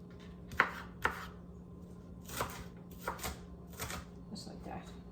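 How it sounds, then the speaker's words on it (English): A knife cuts tomatoes into thin slices on a cutting board: a handful of crisp, close chops spaced irregularly, the first two sharpest, with soft talking heard around them. "I'm just making thin slices, and then I'm going to cut those slices in half at least"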